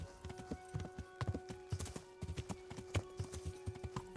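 Horse hooves trotting in the medieval video game Kingdom Come: Deliverance, a steady, evenly paced clip-clop of hoofbeats, fairly close, over a faint constant background tone.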